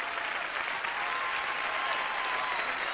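A cabaret audience applauds steadily, a dense, loud wash of many hands clapping that holds evenly throughout.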